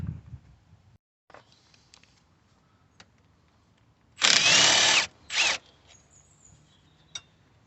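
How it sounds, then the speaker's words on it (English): A power tool, likely an impact gun, runs on the brake caliper slider bolts of a Ford Transit MK8 LWB during a roadside front brake job, with one longer loud burst followed by a shorter one, and a few small clicks around them. "Got some bolts to remove the caliper slider bolts."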